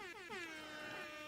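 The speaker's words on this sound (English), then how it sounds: "Get my air horn." A loud, blaring air horn sounds continuously, its pitch wavering slightly over about a second.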